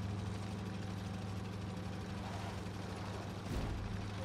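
A powerful Altay tank engine in the video game Armored Warfare drones steadily as the tank climbs a slope, a continuous low mechanical rumble with a brief swell near the end.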